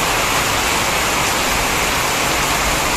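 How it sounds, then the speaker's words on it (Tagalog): Heavy rain pours down steadily in a dense, unbroken roar of broadband hiss, with no voices or other sounds breaking through. "Lakas ng ulan."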